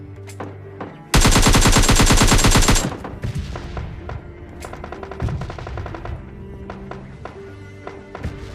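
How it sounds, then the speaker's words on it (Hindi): Rapid automatic gunfire in a mobile battle royale shooter, with a loud sustained burst of rattling shots up front followed by scattered single shots, clicks and game effects over a faint in-game music bed. "और फायर की साउंड तो आप लोगों को आ चुकी है"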